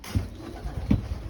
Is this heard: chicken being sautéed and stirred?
no